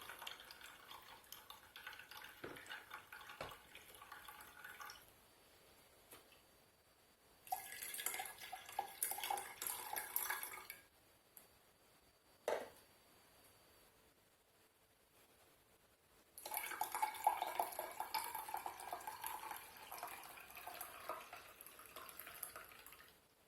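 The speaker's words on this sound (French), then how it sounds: "Je commence à verser un petit peu d'eau dans le presse-citron pour récupérer un peu de citron." Water pours into a lemon press in several separate bursts of trickling and splashing, split by short quiet gaps and a single sharp tap, with no voices.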